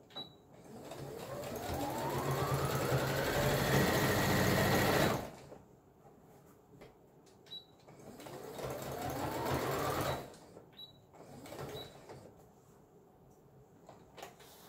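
A sewing machine runs while stitching a lumbar pillow, whirring in a long steady burst that speeds up, then stopping before a second shorter run, with faint handling clicks in the pauses.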